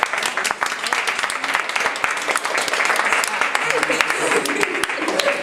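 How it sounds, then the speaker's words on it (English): Applause from an audience at a public reading of a Jules Verne novel, a dense steady crackle of many hands clapping throughout, with voices murmuring underneath. "An applause."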